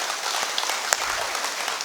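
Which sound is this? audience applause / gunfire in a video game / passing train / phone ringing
audience applause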